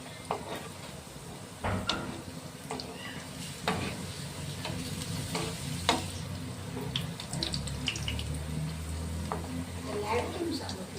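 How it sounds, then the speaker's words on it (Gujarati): Papad tikki rolls deep frying in hot oil bubble and sizzle steadily, nearby, with intermittent clinks and knocks of a utensil and some faint background voices. "હવે આપણે ફ્રાય કરીશું।"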